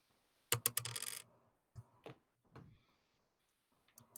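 Polyhedral dice clatter across a table during a tabletop roleplaying game, a sharp, close burst of rattling clicks followed by a few separate knocks and taps as they settle.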